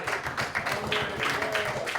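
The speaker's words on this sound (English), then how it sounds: "Thank you for clapping." An audience at a live comedy show claps and cheers for a comedian taking the stage, a dense, fairly loud wash of hands with some voices mixed in throughout.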